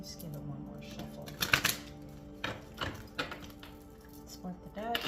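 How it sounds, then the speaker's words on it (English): Cards are riffled and shuffled in a few quick bursts, close and fairly quiet, with soft handling noises between them. "Let's give it one more shuffle."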